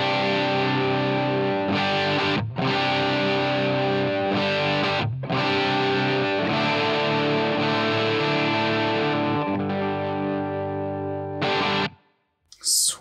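An electric guitar runs through a Helix Native Brit Plexi Marshall amp model, playing sustained distorted chords that ring loudly, cut off sharply twice, then resume before a final stop and a brief restart.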